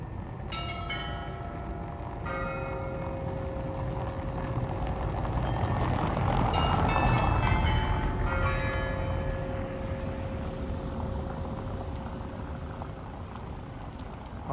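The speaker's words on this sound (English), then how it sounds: "I believe the chimes here every 15 minutes" Town clock chimes ring out across the town of Vyborg, Russia, a few resonant bell strikes heard from a distance, layered over steady outdoor street and traffic rumble with no talking.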